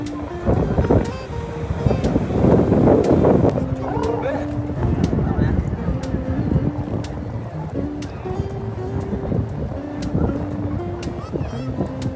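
Sea waves wash onto the beach at Cox's Bazar in a steady, broad roar with wind buffeting the microphone, largely covered by voices and tonal sounds throughout.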